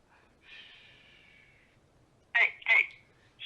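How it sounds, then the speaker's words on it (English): Snoring comes through a telephone line: a faint, thin tone first, then two loud, rough snorting breaths in quick succession near the end. "Hey, stop snoring."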